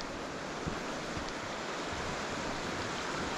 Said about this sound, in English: the river's really flooded here, look. It's bursting its banks